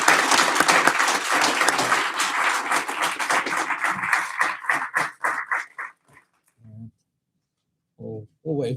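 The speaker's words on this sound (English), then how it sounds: "let's give one last big round of applause to all the workers" Crowd at a fire academy recruit graduation claps loudly and continuously, the applause thinning and breaking into scattered claps before fading out, followed by a couple of short bursts of a voice at the end.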